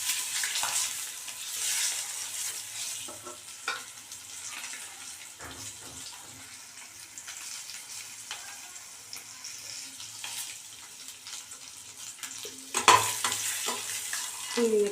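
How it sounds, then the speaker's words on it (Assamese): Eggs fry in a pan while being stirred, producing a soft, steady sizzle with intermittent scraping and clinking of the utensil against the pan, fairly faint and close. "কণীকেইটা ভাজা আমাৰ হৈ গ'ল।"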